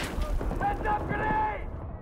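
A grenade explodes in a video game, a loud booming blast with a rumbling tail that fades over about two seconds, heard up close.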